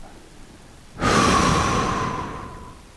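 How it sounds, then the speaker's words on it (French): After a second of quiet, a single long, deep exhale during a sophrology relaxation session pours out close to the mic, a breathy rush that slowly fades over about two seconds. "Je souffle, j'évacue le négatif jusqu'au centre même de la terre"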